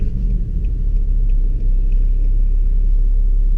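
A tuned 2005 BMW 535d with 370 hp pulls away in second gear in city driving, its engine a loud, steady, deep rumble throughout with no voices.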